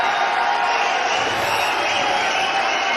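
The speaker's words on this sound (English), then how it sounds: "The crowd which has come here in numbers in Dubai are absolutely ecstatic. Listen to the roar," A large, ecstatic crowd roars continuously at the opening night of the Kabaddi Masters Dubai 2018, a loud, dense wash of cheering that holds steady throughout with no pauses.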